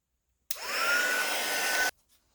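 A handheld heat tool blows steadily for about a second and a half on paint and washi tape in an art journal, a loud, even whirring roar with a faint whine that starts and stops abruptly.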